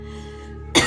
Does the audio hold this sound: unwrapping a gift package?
no